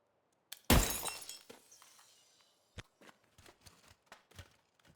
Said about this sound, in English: They're ice now. I can shatter them like glass.